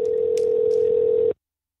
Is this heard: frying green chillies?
no